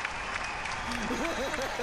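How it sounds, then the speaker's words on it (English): A crowd applauding and cheering at a fight in a Conan game tournament, a dense steady wash of clapping with some rising whoops mixed in, fairly loud throughout. "The crowd are really getting involved."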